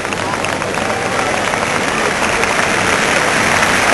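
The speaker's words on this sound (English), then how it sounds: "listen to the ovation for the All Blacks there" Stadium crowd at a 1992 All Blacks versus Natal rugby match roaring and applauding after a try, a loud, dense, continuous wash of cheering and clapping, with a commentator talking over it.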